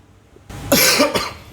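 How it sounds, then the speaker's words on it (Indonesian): A single harsh, persistent-sounding cough bursts out close and loud, a rough double-pulsed hack with no talking around it. "Batukmu nggak sembuh-sembuh ini gimana?"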